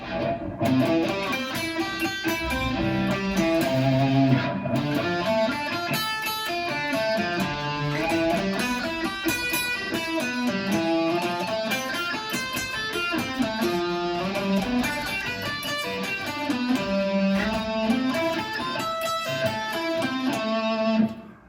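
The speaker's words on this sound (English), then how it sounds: "you're going to be able to play the whole scale as a sweep" Fast, fluid guitar sweep-picked arpeggios climbing up a scale in a continuous run, loud and distorted, with no talking.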